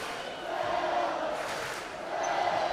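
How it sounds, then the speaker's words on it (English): Crowd noise at a Salem High boys basketball playoff game swells into a broad, loud roar of cheering in a gym, surging twice across the moment. "Salem crowd coming alive for the final 3 here of the first half"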